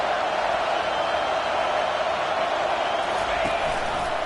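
Football stadium crowd at a college game, a steady loud roar filling the scene with no breaks.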